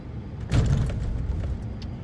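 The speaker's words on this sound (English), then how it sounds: "You're going to feel a bump because we're going over a railroad track." A 2018 Chevy four-door pickup crosses a railroad track, giving one heavy thump and jolt from the cab, followed by steady road rumble and rattles, with no talk.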